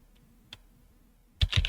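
A couple of faint isolated clicks, then a quick burst of close keyboard typing with several rapid keystrokes.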